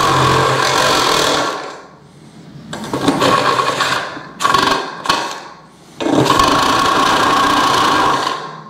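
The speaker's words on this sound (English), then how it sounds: "get all this drilled out" Loud power drilling in three long bursts with short pauses between, plus two quick blips in the middle; no one speaks.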